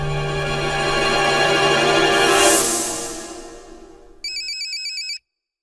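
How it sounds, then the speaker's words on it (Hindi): A phone ringtone plays, a sustained swelling chime, then a short beeping electronic trill before cutting off abruptly into silence. "अरे मुख्यमंत्री जी का फोन।"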